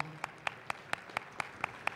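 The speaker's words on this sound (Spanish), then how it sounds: "Lo recibimos con un fuerte aplauso." Hands clapping in a large hall at an award ceremony, a faint, evenly spaced series of about eight claps at a steady rhythm.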